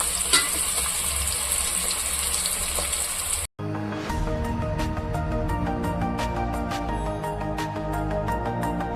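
Onions fry and sauté in a pan for a Tamil hotel-style parotta salna: a dense, steady sizzle with frequent light stirring clicks and scrapes close by, no voices.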